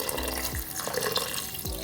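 Water pours steadily into rice in a pressure cooker, a close, continuous splashing and trickling stream with a couple of gurgling drips, and no voices.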